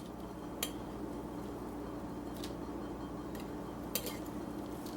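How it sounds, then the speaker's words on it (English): A spoon scrapes homemade natural deodorant out of a nearly empty container, producing a few faint, sparse clicks and scrapes over a steady low hum, with no talking. "I can use my spoon now that it's getting down there."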